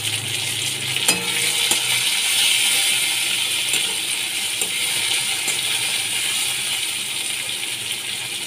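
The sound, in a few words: onion and chopped tomato frying in a pan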